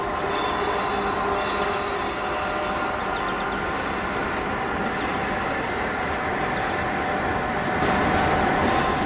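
An HO scale model train runs westbound down a steep grade on the layout, giving a steady, continuous rolling rumble with faint wheel squeal throughout, fairly loud and close, no talk.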